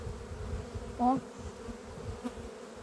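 Honey bees buzzing steadily at an apiary hive during frame work, a close, continuous drone with one brief louder tonal hum partway through.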